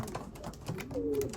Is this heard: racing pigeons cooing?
yes